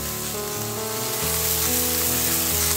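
Piring greens (piring shak) sizzle and crackle as they fry in a hot pan with mixed vegetables in a Bengali village kitchen, a steady, loud, continuous hiss with no voices.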